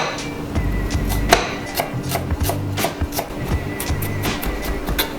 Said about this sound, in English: we're gonna finally mince this